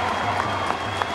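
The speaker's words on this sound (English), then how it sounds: "the crowd hail Grace O'Hanlon" A crowd at a women's field hockey match between New Zealand and Belgium applauds and cheers a goalkeeper's save in a steady, loud roar of clapping with a few sharper claps standing out.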